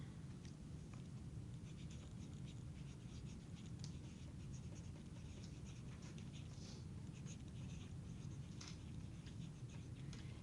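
Someone draws a T-chart during a geometry lesson, giving faint scratchy pen or pencil strokes over a constant hiss with no talking.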